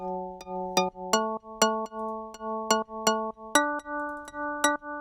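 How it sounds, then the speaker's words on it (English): Mallet-struck marimba chords in an FL Studio melodic house drop ring out in a steady rhythm, each stacked tone decaying quickly before the next hit, with no voices present. "So we're going to put our chords in this marimba right here."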